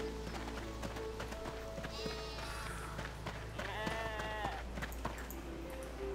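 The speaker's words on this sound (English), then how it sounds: "Aw, the little black lamb running around." Sheep and a small black lamb bleat in a farm field in RuneScape 3, several wavering calls over a busy game soundscape with background music and faint hoof-like clopping.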